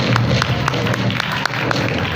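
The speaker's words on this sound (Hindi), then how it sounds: "तालियां बजा दीजिए।" Audience applause at a church Christmas drama, a steady dense patter of many hands clapping throughout, fairly loud and continuous with a faint murmur of voices beneath.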